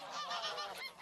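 Free-range geese in an open field honk together in a loud, continuous chorus of overlapping calls, close by and without any voices.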